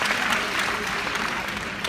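Keynote audience clapping steadily throughout, a dense, even wash of many hands from a large crowd with no pauses.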